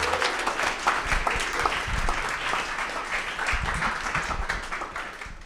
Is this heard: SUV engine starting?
no